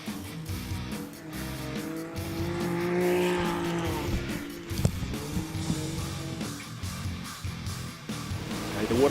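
Off-road race vehicles tear around a short course track at a national finals meeting, engines roaring continuously with rising and falling revs, tire squeal and skidding as the field passes close by, loud throughout.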